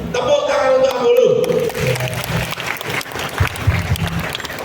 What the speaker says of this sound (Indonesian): Tepuk tangan untuk Ambulu.